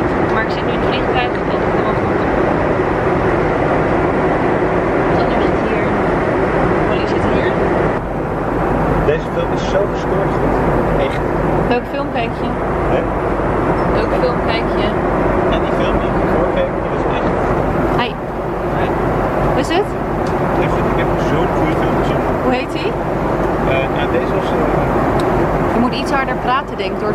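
Airplane cabin noise in flight: a loud, steady broadband engine roar and air rush throughout, with a person talking over it.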